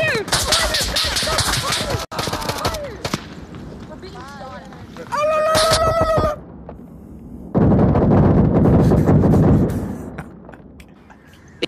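Gunfire in the Onward virtual-reality military shooter, with bursts of shots and impacts in a busy firefight, mixed with excited players shouting over it.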